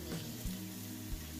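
Garlic frying in oil in a pan on lowered heat while cooking stir-fried noodles, a steady close, soft sizzle with a couple of brief louder crackles, no talking.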